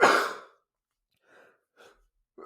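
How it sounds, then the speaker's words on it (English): A single sharp sneeze bursts out up close, followed by a few soft breaths or sniffs in near silence. "Sorry, I'm going to have to sneeze."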